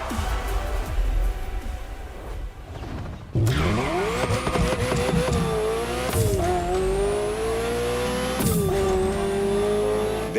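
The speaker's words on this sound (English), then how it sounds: "This was LaFerrari, the fifth and ultimate Ferrari supercar." A Ferrari LaFerrari supercar in The Crew Motorfest game revs hard, its engine note climbing through repeated loud sweeps with tire squeal and brief gear-change breaks, close and continuous.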